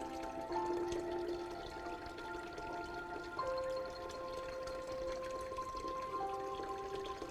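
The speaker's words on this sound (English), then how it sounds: "I'm going to add some rain." Simulated rain poured onto an aquifer model tank, heard as a steady close trickle and splash of water running continuously, with tonal ringing from the tank and no talking.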